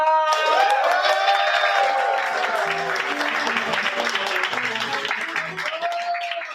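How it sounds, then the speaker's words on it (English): Crowd at an open mic comedy night claps and cheers loudly, with whoops and shouted voices over sustained applause that slowly tapers. "With that, let's make some noise. Let's fill the room with a lot of energy and clap it up for Nikolai."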